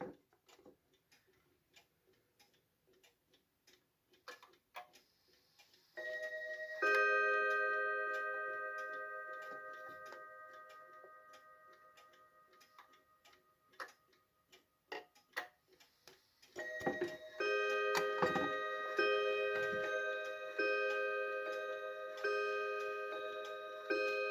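A 1961 Junghans hanger clock ticks softly and steadily throughout, a close, even tick-tock with occasional brighter chiming tones ringing out alongside it.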